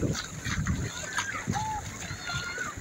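Sea waves splashing in at Baga Beach, Goa, a close, uneven wash of water with a few bursts, while people talk nearby.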